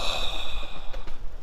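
A person breathing deeply during a fast, with a slow, close airy exhale and soft breath noise, quiet and alone.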